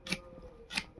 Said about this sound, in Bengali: কটা কাঁচা লঙ্কা নিলাম, ওগুলো চিড়ে দিচ্ছে।